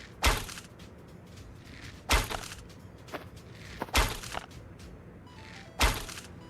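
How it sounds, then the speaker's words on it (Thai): Bow shots at a turret in the survival game Last Day on Earth, with four sharp, loud thunks spaced about two seconds apart over a quiet background. "เราสามารถใช้ธนูแทนได้นะครับ เพื่อยิงป้อมปืนนะ"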